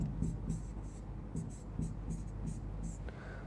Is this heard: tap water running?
no